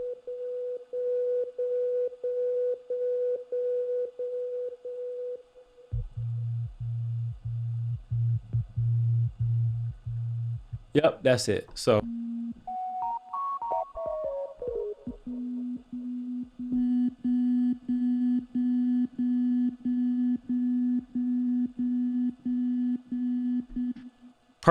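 Digital synthesizer tones played from a keyboard, with the filter cutoff tracking the keybed: a steady held note, then lower repeated pulses, a bright sweeping burst, and another sustained tone, close and clean, with a brief spoken interjection.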